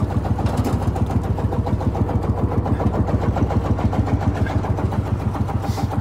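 A 1960 John Deere Lanz D2816 tractor engine idles smoothly and steadily, a close, even low chugging pulse running throughout with no talk.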